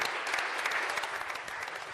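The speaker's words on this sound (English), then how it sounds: "the City Council of the City of University Place extends its sincere congratulations and applause to Sierra for this honor and achievement." Applause at a city council meeting in a hybrid chamber session, an even wash of many hands clapping continuously, moderately distant and steady with no voices on top.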